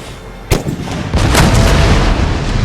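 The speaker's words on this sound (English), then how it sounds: "So, cannons, start shooting when you're ready" Cannon artillery fires in an Empire: Total War battle: a sharp nearby boom, then another heavy blast that rolls into a sustained low rumble of distant gunfire lasting to the end.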